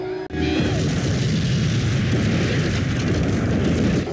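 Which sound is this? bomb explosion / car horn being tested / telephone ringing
bomb explosion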